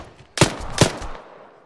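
Two sharp rifle shots in the military shooter Arma 3, cracking close together about 0.4 seconds apart and then decaying into a short echoing tail.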